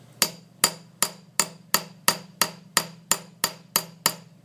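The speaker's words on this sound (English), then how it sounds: "using the smaller rounded tip of the ball peen hammer, we can go over the surface" A ball peen hammer's rounded tip strikes a metal surface on a small anvil to dimple it, twelve sharp ringing blows at an even, brisk pace, each decaying quickly, loud and close with no talk.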